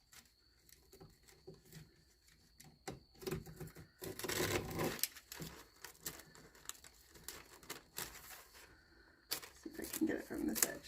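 A razor knife slicing through paper laid over furniture during a crackled farmhouse finish project, giving faint scratchy cutting strokes and paper crinkles interrupted by rustling, while a person talks.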